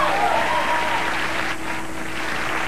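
Canned studio-audience applause triggered from a button on a late-night talk show, a continuous broad clapping wash that thins slightly toward the end, with a faint steady tone running underneath.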